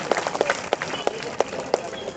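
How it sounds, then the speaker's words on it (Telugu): A crowd at a Hanuman idol installation ceremony in a village colony claps in scattered, uneven bursts, with sharp individual hand claps standing out over a low murmur of voices. "చప్పట్లు కొట్టిన వాళ్ళకి రోజు శనివారమే వచ్చుగాక."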